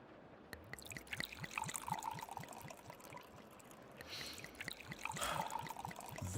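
Spirits trickle and gurgle as they pour into a glass, a faint, close liquid stream with small splashes that swells slightly toward the end.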